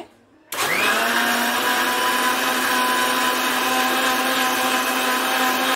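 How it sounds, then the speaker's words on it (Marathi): An electric mixer grinder starts abruptly after a brief quiet moment, then whirs loud and steady as it blends lemon juice, sugar and cold water. "मिक्सर ऑन करते."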